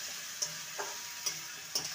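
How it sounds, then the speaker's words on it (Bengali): Okra being stirred in a pan over a high gas flame for a dhaba-style bhindi fry: a faint, quiet sizzle broken by three or four sharp clicks of a utensil against the pan. "গ্যাসের ফ্লেম হাইতে রেখে এটাকে ভালো করে নেড়ে নেব।"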